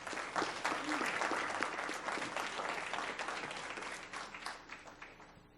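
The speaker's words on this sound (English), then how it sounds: "Let's give everyone a big round of applause." An audience at a school board meeting breaks into steady applause, a dense wash of clapping that lasts several seconds before gradually thinning out.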